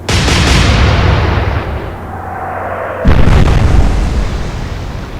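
Warship guns in the Atlantic Fleet game fire a loud salvo, a deep boom decaying into a rumbling tail, then a second sharp blast that also rolls away, with no voices.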